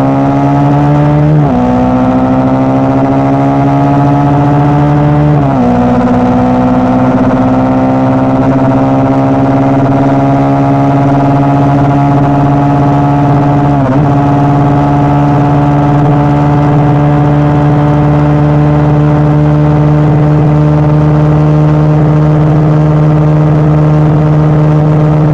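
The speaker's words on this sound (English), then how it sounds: "This motorcycle is quick to get to the turn and reaches 125 in a flash" A Yamaha Fazer 25 motorcycle engine revs up loud and close, pitch climbing steadily through several gear changes, each marked by a brief dip before the drone rises again.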